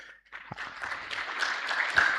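An audience at an annual scientific conference applauds attendees joining virtually: after a brief pause, clapping swells into a steady, moderate patter of many hands in a hall, growing slightly louder toward the end.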